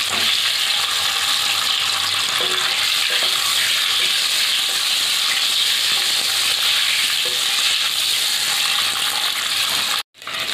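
Eggs fry in hot oil seasoned with salt and turmeric, giving a loud, steady close-up sizzle with faint stirring clicks and a brief drop-out near the end.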